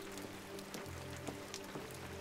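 Steady rain patters on surfaces in Detroit: Become Human, a soft continuous hiss with scattered drops, low in level with faint tonal background hum and no talking.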